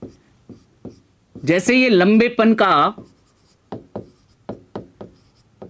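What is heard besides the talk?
writing on a board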